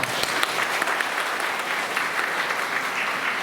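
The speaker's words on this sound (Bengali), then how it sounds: "আমি সবাইকে বলবো একটা জোরে হাততালি হয়ে যায়" Loud, steady applause from a crowd at an AIDS awareness rally and discussion meeting in Kailashahar, a dense continuous clapping that holds evenly throughout with no talk over it.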